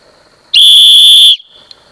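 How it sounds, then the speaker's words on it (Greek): A loud, shrill survival whistle with a pea inside, blown once in a single steady blast of just under a second, piercing and close, with quiet before and after. "Αυτή η σφυρίχτρα που έχει το στραγάλι εσωτερικά, δεν ξέρω πόσα ακριβώς δεσιμπέλ παράγει, αλλά είναι αρκετά δυνατή"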